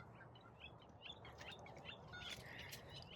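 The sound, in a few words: bird chirping as it flies over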